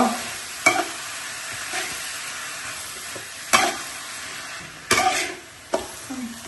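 Onion, tomato, garlic and spinach frying in oil for palak chicken gravy, a steady close sizzle broken by several sharp scraping stirs of a spatula against the pan, with no voices.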